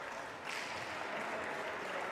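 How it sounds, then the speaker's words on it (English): Crowd applause and a standing ovation at the close of a junior world championship mixed under-21 doubles racquetball match, Argentina versus USA; steady, even clapping fills the hall throughout, with faint talk underneath. "Applause by the crowd. Standing ovation."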